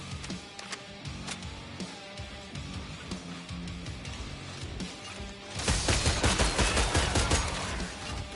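Video game gunfire from Killing Floor 3, a dense run of sharp shots and bursts, growing into heavier continuous fire in the second half, loud and close with no talk.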